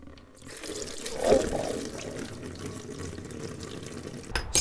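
Gray, oil-contaminated coolant pours from the bottom water pump drain bolt of a motorcycle engine, a steady splashing trickle into a catch pan that swells briefly, then runs on evenly before a sharp knock near the end.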